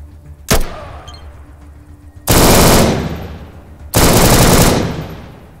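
Two loud, sustained bursts of automatic gunfire in the video game ATOM RPG, firing regular ammo from a rifle like an RPK, preceded by a single sharp shot, each burst a dense roar that fades briefly before the next.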